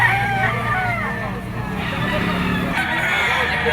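A yellow-legged sweater gamecock stag crows at a rooster market in Lipa, Batangas, one fairly close, drawn-out crow over a background of chatter, clucking birds and passing traffic.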